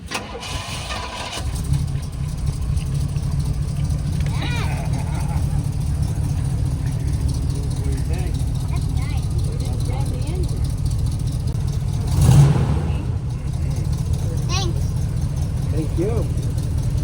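A muscle car engine cranks over and catches after the gas pedal is pumped twice, then settles into a steady, loud, rumbling idle close by, with people talking over it.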